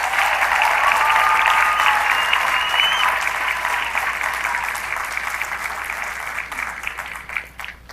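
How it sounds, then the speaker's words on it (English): A large audience applauds the families of Marine recruits at a boot camp graduation ceremony, a dense, steady wash of clapping that holds strong and then slowly tapers toward the end. "So please join me in a big round of applause for the families"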